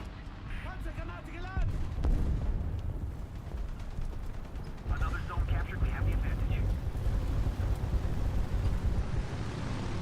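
Tank cannon fire in the War Thunder video game: two heavy booming shots with rumbling tails, separated by a few seconds, while someone talks over the battle noise.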